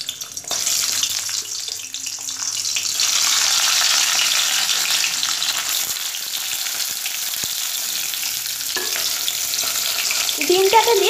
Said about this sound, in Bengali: ডিমটাকে দিয়ে আমি ডিমটাকে ভেজে নেব।